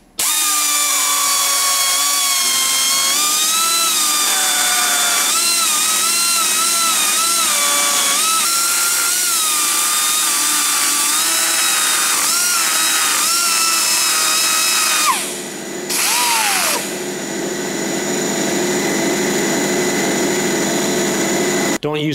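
Power drill with a wide-flute bit boring through 3/8 inch thick aluminum plate in a fabrication shop, a loud, steady, high-pitched whine with shifting tones that runs continuously for most of the clip, then stops abruptly near the end.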